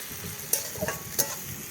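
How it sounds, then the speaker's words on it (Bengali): Onions fry in a pan for a pumpkin flower kai, giving a soft, steady sizzle with two or three light scraping stirs. The sound is fairly faint and close, with no talking. "পেঁয়াজ মোটামুটি ভাজা রেডি হয়ে এসেছে।"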